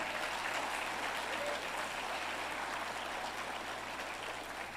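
A church congregation claps steadily through a Sunday morning service, a dense continuous wash of applause that stays even in level and fills the room.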